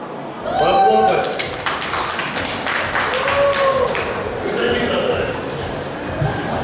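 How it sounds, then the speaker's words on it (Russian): Audience applause closes a winning bid at a live auction, a dense steady clatter of many hands heard close and fairly loud for several seconds, with an auctioneer's voice talking over it. "Похлопаем."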